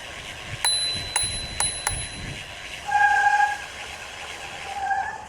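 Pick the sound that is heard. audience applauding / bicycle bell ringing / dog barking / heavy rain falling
bicycle bell ringing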